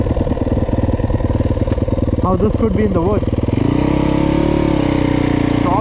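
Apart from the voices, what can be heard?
Yamaha YZ250 motocross bike engine running at high idle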